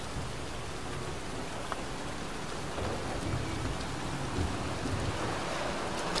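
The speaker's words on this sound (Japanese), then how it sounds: "おや、嵐が来るな。" Steady rain with a rumbling thunderstorm in the game Heavy Rain, a dense even hiss of falling water with low rolling thunder, continuous throughout and with no one speaking.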